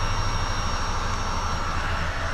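A helicopter flies somewhere outside, heard as a steady, droning engine rumble from a distance that stays constant throughout with no voices.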